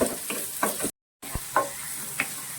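Onions with garlic and salt fry in oil for a North Indian dal curry, a steady close sizzle broken by a few spatula stirs and one brief silent gap.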